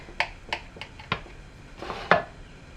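A knife chopping a butter-enriched marbled food into pieces on a board, with about six crisp, separate cuts spaced unevenly and heard up close in a quiet room.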